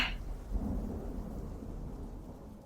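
Low rumbling thunder within a song rolls on steadily for a few seconds, with a soft rain-like hiss over the deep roll.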